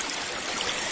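A river stream flows steadily and close by during a gold-panning outing, a continuous broadband wash of moving water with no voices.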